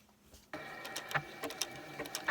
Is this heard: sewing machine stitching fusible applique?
yes